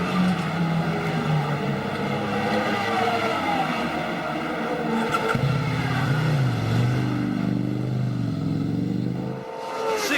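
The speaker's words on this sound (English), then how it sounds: "the only stock sport class bike in the race was still running well, looking and sounding none the worse for wear" A stock sport class motorcycle runs in a World Motorcycle Endurance Championship race at Albacete, its engine droning loudly with rising and falling pitch as it passes and shifts, under trackside ambience with other bikes.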